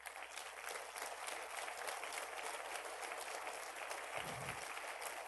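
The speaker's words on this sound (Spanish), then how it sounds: "Dele otro aplauso fuerte al Señor." A church congregation applauding during a Spanish-language sermon, a sustained, even roar of many hands clapping, fairly distant and steady throughout.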